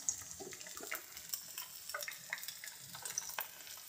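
Chopped vegetables such as capsicum and carrot frying in a pan with lightly browned onion for veg pasta, giving a faint sizzle with soft scraping stir strokes and light clinks, quiet and close with no talk.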